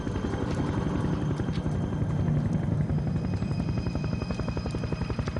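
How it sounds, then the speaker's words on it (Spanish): Helicopter flying overhead near an island prison, its rotor producing a steady rapid chopping thud, close and continuous throughout with no talk. "oí el inconfundible sonido de un helicóptero"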